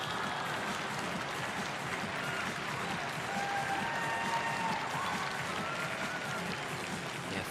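An arena crowd at the ISU figure skating World Championships in Boston applauds and cheers steadily, a dense wash of clapping with a few whistles rising above it and no pause throughout.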